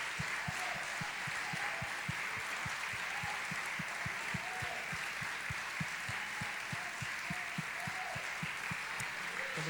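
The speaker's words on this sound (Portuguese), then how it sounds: "Será que a gente pode dar um grande aplauso aos céus" Sustained congregation applause at a Sunday morning church service, a steady dense patter of many hands with a low rhythmic thumping underneath, continuing evenly throughout.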